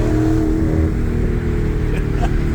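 A Ford Mustang's exhaust drones loudly and steadily at close range, a low rumbling engine note that holds nearly even throughout with no talking.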